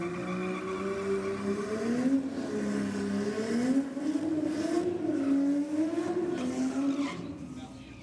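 A Jaguar XE and a Subaru WRX drag race at Sydney Dragway, engines rising in pitch through repeated gear changes as they pull away, with a steady roar and faint crowd noise underneath.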